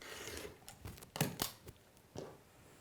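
Rotary cutter trimming the sides of a Hunter Star quilt block, a few faint, short slicing and scraping strokes against a cutting mat, close but quiet, with no talking.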